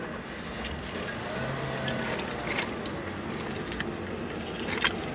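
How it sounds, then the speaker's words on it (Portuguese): Car keys jangle and clink while being rummaged for beside a Suzuki Grand Vitara, a steady close metallic rattling that continues throughout with faint scattered clicks and no talking. "procurando aqui a chave do carro para poder ligar"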